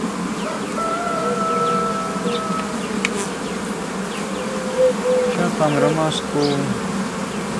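Honeybees buzz in a dense, steady drone around an open beehive while a colony is split to start a new swarm, close and continuous, with a voice speaking briefly over it.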